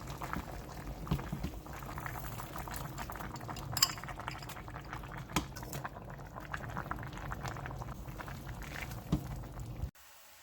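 Chicken curry bubbling steadily in a pot, a continuous close boil with occasional soft clinks, running alone for about ten seconds before cutting off abruptly.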